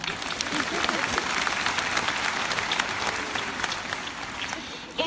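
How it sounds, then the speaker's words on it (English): Audience applause fills a convention room, a dense, steady clapping from many people that carries on throughout at a consistent level. "give yourselves a clap"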